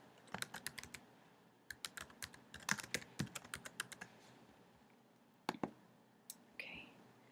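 Bursts of typing on a computer keyboard, close and fairly quiet, with irregular clusters of key clicks separated by short pauses while axis labels are entered into a spreadsheet chart.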